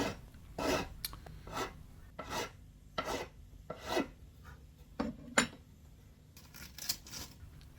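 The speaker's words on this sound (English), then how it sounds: "Now I file the nut to the right height." A file rasps in short repeated strokes across a violin nut during workshop restoration, close and crisp, each stroke separated by brief pauses in an irregular rhythm.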